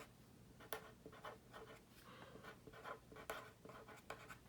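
Pen handwriting on a paper cash envelope budget sheet, a quiet series of short scratchy strokes and taps in an irregular rhythm, close and faint against a low room hum.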